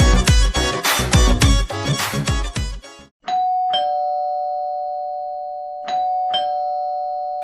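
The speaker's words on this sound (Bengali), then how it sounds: "কলিং বেল দিল কি?" A doorbell chimes with a sustained electronic tone that rings on and decays, then sounds again a couple of seconds later. Busy, loud scene sound comes before it, and no voices are heard in the clip.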